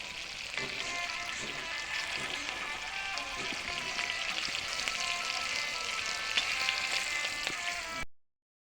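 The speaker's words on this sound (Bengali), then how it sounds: "একটু ফ্রাই করি" Five pieces of fish fry in hot oil in a pan, giving a dense, steady sizzle with crackling pops that holds for about eight seconds before cutting off abruptly.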